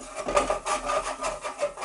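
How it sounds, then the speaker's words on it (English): A rhythmic scraping and rubbing as roast chicken juices and flour are scraped in a pan, repeated strokes at close range with no talking. "Scrape off all those juices"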